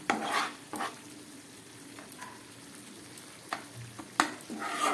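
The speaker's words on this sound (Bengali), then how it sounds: "একদম গ্যাস কম করে আমি 3-4 মিনিট মতো কষিয়ে নিলাম।" Spiced masala paste sautéing in oil over a low gas flame for Bengali koi fish curry, a soft steady sizzle with a few louder stirring scrapes near the start and end, no talking.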